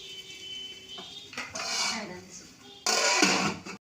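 A metal lid set onto a cooking pot while making Allagadda colour rice, with clinking metallic clatters, a brief knock near the middle and a louder rattling clank toward the end, close and fairly quiet.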